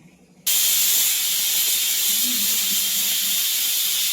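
A pressure cooker vents steam while chicken sambar cooks, a loud, steady hiss starting abruptly after a brief quiet moment and holding without pause to the end.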